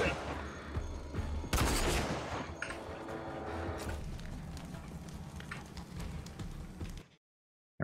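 A weapon fires repeatedly in a Gears video game, a loud volley of shots and blasts with continuous rumbling battle noise that cuts off abruptly to silence at the end.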